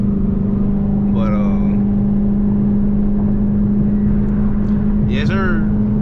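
A Dodge Charger RT driving, a steady low engine hum and road drone throughout, with someone talking over it in two short bursts.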